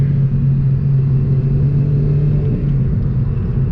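Stock Honda Civic Si pulling steadily in third gear, a loud, continuous low engine drone with road rumble heard from inside the car, holding an even pitch throughout with no talking.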